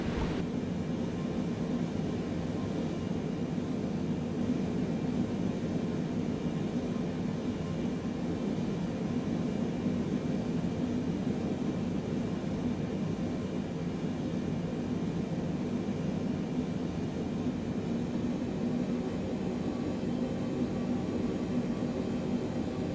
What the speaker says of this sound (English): So taxiing this plane is a bit weird sometimes.